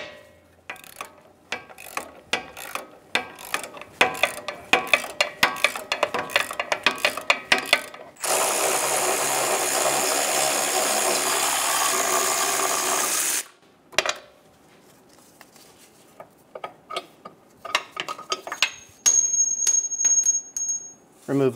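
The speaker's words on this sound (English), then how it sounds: "Using an 18mm socket, we're going to remove the last transmission bracket bolt." An 18mm socket ratchet works a transmission bracket bolt loose on a 2008-2017 Buick Enclave 3.6L V6, with rapid clicking bursts, a sustained whirring stretch in the middle, then more clicks and tool handling.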